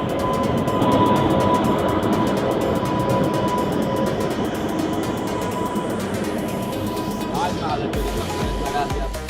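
A train locomotive moving at Godda railway station in Jharkhand rumbles steadily with a sustained whine and clanking, close and loud, with people talking over it.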